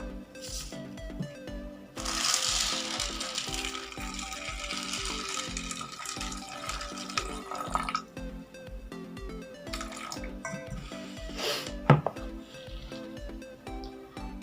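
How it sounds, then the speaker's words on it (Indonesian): Water poured into a bowl of soybeans for making tempeh, splashing and trickling close by with a brighter rush of pouring in the middle and scattered clinks and drips around it. "Lalu kita beri air."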